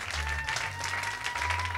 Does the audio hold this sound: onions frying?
no